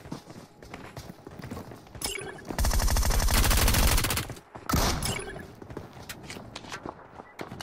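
Gunfire in a battle royale video game, a dense burst of rapid, loud shots lasting over a second, then a second short burst, amid quieter in-game footsteps and ambience.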